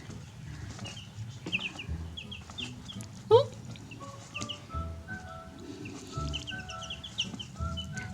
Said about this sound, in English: These ones are the gold Brahmas, and the rest are light Brahmas.